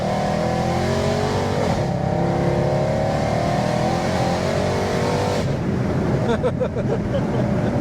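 A 780bhp Weistec-tuned Mercedes C63 accelerates hard, its engine roaring loud and sustained from close by, with a shift in tone partway through as it pulls on.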